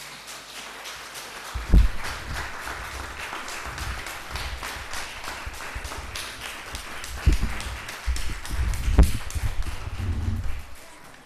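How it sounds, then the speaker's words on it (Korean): A church congregation at a Sunday service claps to welcome children forward, a light scattered patter of hands mixed with shuffling, footsteps and a few thumps as people move about. "우리 박수로 이 아이들을 초대하겠습니다."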